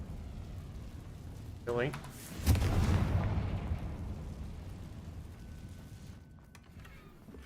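A Confringo fire spell is cast in Hogwarts Legacy, bursting into a loud, booming blast that rolls into a long, crackling rumble and slowly fades. A sharp whooshing sound leads into it, and a voice briefly speaks afterward.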